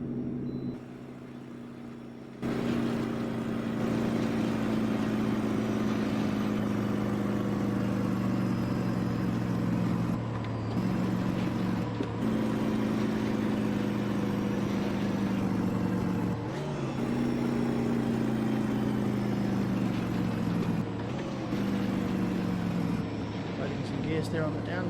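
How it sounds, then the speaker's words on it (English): Battle truck engine from an American Truck Simulator mod running loud and steady, its deep drone rising and falling through repeated gear shifts with brief dips between revs. "Let's have a listen to that engine."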